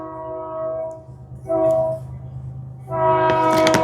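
A train passes close by a house, its horn sounding in long harmonic blasts: one early held note, a short second blast, then a louder sustained blast near the end over a steady low rumble.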